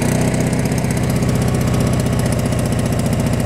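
A Honda portable generator engine runs steadily at a close, loud level, with an even low throb and a dense mechanical hum that holds constant throughout, no voices over it.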